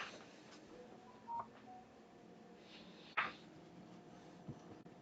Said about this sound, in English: Just heard my phone make a noise in the other room.